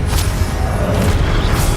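Incendio fire spell cast in Hogwarts Legacy, a dense, steady rumbling whoosh with a low boom that holds loud for under two seconds, with no voices.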